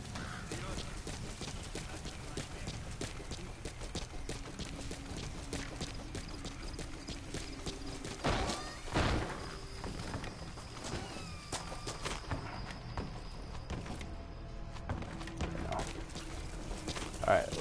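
Horse hooves clip-clop steadily through the Metal Gear Solid V game world, a repeating rhythmic patter under game ambience and a talking voice.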